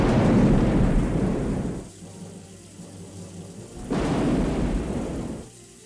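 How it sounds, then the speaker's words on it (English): Thunderstorm over a coast with heavy rain, two loud rumbling, roaring surges of storm noise separated by a quieter stretch of rain hiss. "Soon enough, a big rainstorm was raging across the coast."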